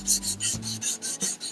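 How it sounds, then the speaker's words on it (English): Oiled sandpaper rasps back and forth over a wooden HW95 air rifle stock in a steady rhythm of about eight close, gritty strokes, with no voices. "I can feel the paper dragging on the wood as we sand."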